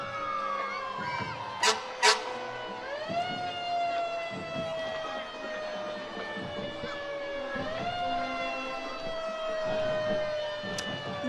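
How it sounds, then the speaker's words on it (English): Emergency vehicle sirens wail at a nighttime Christmas parade, several overlapping tones sweeping up and down steadily over crowd murmur, with a couple of sharp short whoops standing out. "They brought every siren out of Riceboro and Midway tonight"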